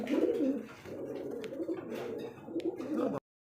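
Fantail pigeons of an American tail-marked type coo close by in repeated soft, throaty, rolling phrases, with a few faint clicks, before the sound cuts off abruptly.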